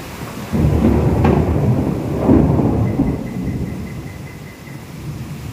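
A heavy thunderstorm at 2 a.m., with loud rolling thunder rumbling over a steady wash of rain, continuous and close, with no voices.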